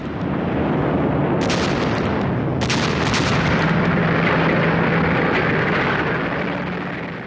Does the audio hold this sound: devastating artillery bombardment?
yes